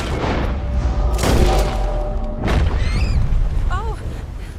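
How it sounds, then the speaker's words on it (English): A pistol fires at a rabbit in Red Dead Redemption 2, with a couple of loud, sharp reports over rumbling outdoor game ambience and a voice talking, followed by bird-like chirps. "I don't know if I should be shooting this with a pistol"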